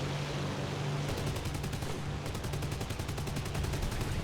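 The Bf 109Z's guns in War Thunder fire in two long, rapid bursts, a dense rattling stream of shots with a brief pause between them, loud over a steady engine drone, with no talk.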